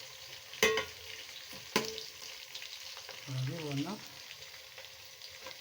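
Onions sizzle and fry in a pan alongside meat, a steady crackling hiss with a couple of sharp clatters of stirring and a brief murmured voice.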